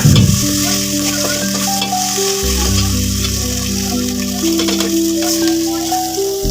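Ingredients fry in a pan before rice is added, giving a steady, close sizzle that crackles continuously for the whole stretch, with sustained tones running underneath.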